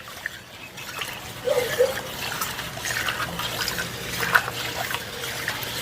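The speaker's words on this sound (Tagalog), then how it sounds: "Haluin siya ng haluin." A homemade dishwashing liquid mixture is stirred in a container, producing soft sloshing and trickling liquid sounds with a few small splashes, fairly quiet and continuous.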